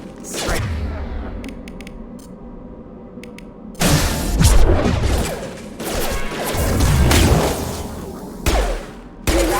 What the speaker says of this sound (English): Sounds like Fenris mechs.